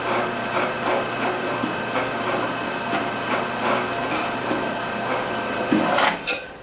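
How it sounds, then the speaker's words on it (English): A countersink bit chamfers the top of a drilled hole on a small mill, a steady whirring machine hum with faint rhythmic ticks and a louder clatter near the end. "And we countersink the top of that hole just a little bit."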